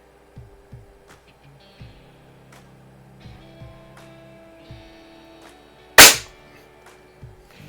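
A Ruger Airhawk .177 break-barrel spring air rifle is fired offhand, making one sharp, loud crack up close amid faint background clicks and low hum, with no talking.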